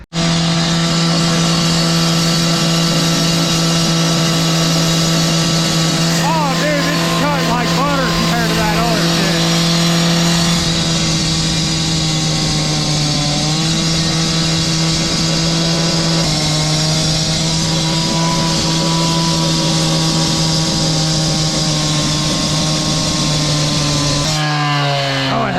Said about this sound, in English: jackhammer's gonna do the job over here better